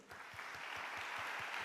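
A church congregation at a Sunday morning service at a university church applauds new freshman students, a dense, steady wash of clapping with faint low pulses underneath, no voices.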